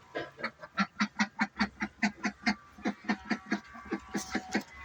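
Ducks on a farm calling noisily for feed, a rapid run of loud, rhythmic quacks close by, repeating steadily for several seconds with no talking.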